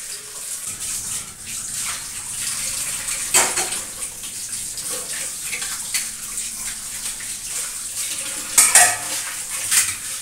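Cooking pot being scrubbed and washed at a kitchen sink, continuous scraping and clinking of metal with splashing water, a few sharper knocks near the end, close at moderate level.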